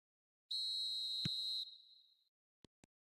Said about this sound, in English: There's the whistle.